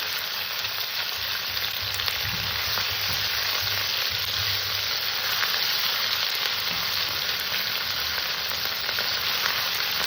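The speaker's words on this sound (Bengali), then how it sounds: "সামান্য একটু আদা বাটা এটাকে আমি আজকে কষে নেবো" Ginger paste and cabbage fry in a pan with a loud, steady, dense sizzle and crackle that carries on evenly throughout, with no voices.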